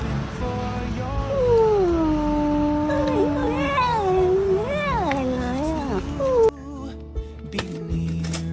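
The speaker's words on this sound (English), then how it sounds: "I told you it was a little kitty." A small kitten meows repeatedly in high, wavering cries, close and fairly clear, over a background of music with singing, which cuts off near the end.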